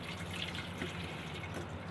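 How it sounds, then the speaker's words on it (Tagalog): Water stirred inside an electric kettle that is under repair, a close, steady liquid swirl with faint drips and sloshing, quiet and continuous with no talking. "Haluin natin ang tubig."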